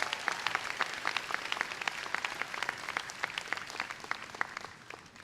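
Audience applause at a university opening convocation for Penn's Glee Club, an even patter of many hands heard from some distance, steady and fairly soft throughout.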